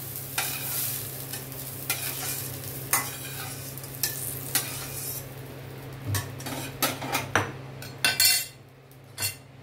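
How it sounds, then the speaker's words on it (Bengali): Potatoes fry in a pan for a Bengali doi aloo potol dish, a steady close sizzle under frequent spatula scrapes and metallic clinks against the pan, growing more intermittent toward the end. "এবার আলুগুলোকেও ভাজবো।"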